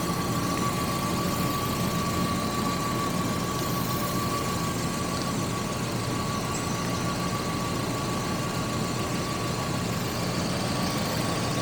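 A 1985 Jaguar XJS, abandoned for over 30 years, idles steadily while warming up, a continuous low engine drone with a faint steady whine, constant in level and with no voices.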